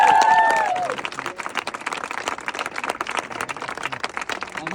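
Wedding guests clap and applaud in a dense, steady patter of many hands, loud at first and then continuing at a moderate level, with a faint voice or whistle near the start.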